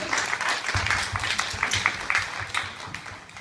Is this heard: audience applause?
yes